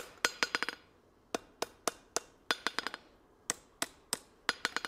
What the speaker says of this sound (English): we're going to go ahead and hammer off this twist if we can